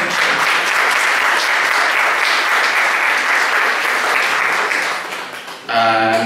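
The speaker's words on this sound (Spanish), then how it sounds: "que pedimos un fuerte aplauso" Loud, dense applause fills a university hall as the director and guests are welcomed at a children's literature event, sustained for several seconds before dipping briefly and resuming.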